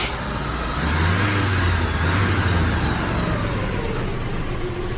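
A 1982 Buick Regal engine runs steadily after starting, a loud close idle with a low droning hum and a slight rise in revs midway, with no voices over it.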